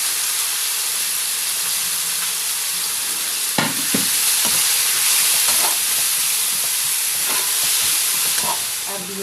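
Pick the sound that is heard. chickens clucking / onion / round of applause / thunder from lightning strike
onion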